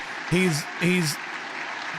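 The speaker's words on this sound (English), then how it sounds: "They're all applauding him" Sustained applause fills the US Congress chamber for Mike Johnson's nomination, a dense wash of clapping running under a voice speaking over it.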